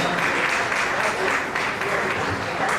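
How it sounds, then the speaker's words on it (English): An audience at an awards ceremony applauds a category winner, dense continuous clapping filling the whole stretch at steady loudness. "A round of applause for them."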